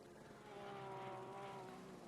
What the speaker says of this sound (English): Lovely shot here from my helicopter.